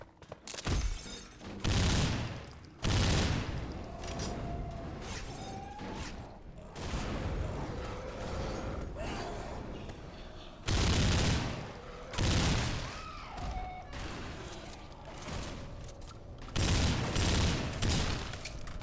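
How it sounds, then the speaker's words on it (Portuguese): Gunfire in Left 4 Dead 2 with the Nightmare modpack: loud bursts of rapid shots in separate volleys over about nineteen seconds, with shattering and booming effects between them. "é muito mais satisfatório dar tiro aqui do que no original"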